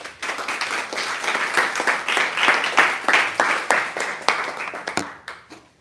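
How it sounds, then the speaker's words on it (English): A lecture audience applauds a speaker, dense clapping building and holding steady for several seconds before thinning out and fading. "Please, let's give her a round of applause."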